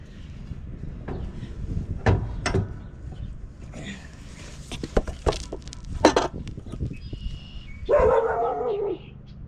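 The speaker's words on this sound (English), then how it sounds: "What's she barking at?" A dog barks several times in short, sharp bursts at moderate distance, with some outdoor background noise between the barks.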